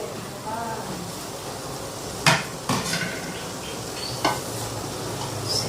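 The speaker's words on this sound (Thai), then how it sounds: "กระเทียมพริกไทยรากผักชีนะคะ แล้วก็ขิง อันนี้เราบุกให้ละเอียดนิดนึงนะคะ" Garlic, black pepper, coriander root and ginger are lightly pounded for a spicy Thai pork-hock soup, giving three dull knocks against a steady kitchen background.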